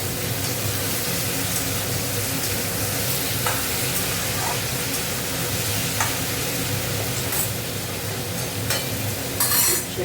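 Bitter gourd frying in a pan, a dense continuous sizzle with occasional spatula stirs and scrapes, close and loud with no talking.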